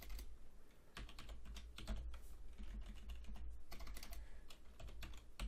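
Computer keyboard typing during a coding session, a steady run of quick key clicks across the whole stretch with a few brief pauses, no voices.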